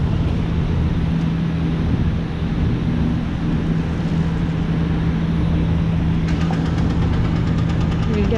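A car drives down Roncesvalles Avenue in Toronto, its engine making a steady loud droning hum with road rumble that continues throughout, while a person talks over it.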